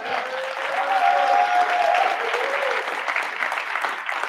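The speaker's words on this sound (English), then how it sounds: "Give him a round of applause. Come on." Audience applause at a motivational talk in Austin, a full room clapping steadily and fairly loud, with a whoop or voice rising briefly over the clapping before it thins slightly.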